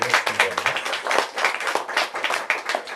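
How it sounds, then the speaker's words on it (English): Brief audience applause at a literary reading event, steady rapid clapping from a modest crowd filling the room without a break. "I say give them applause right now"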